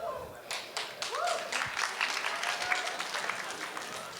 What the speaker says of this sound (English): I hear one man start to clap